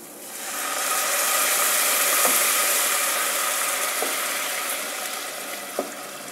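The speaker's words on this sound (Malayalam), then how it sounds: "വെള്ളക്കടല വേവിച്ച് വെച്ചിരിക്കുന്ന വെള്ളത്തോടു കൂടി ഇതിലേക്ക് ചേർത്ത് കൊടുക്കാം" Cooked white chickpeas with their cooking water are poured into a hot pan for a chana masala, giving a steady broad sizzle that swells and then settles, with a few faint utensil taps and no talk.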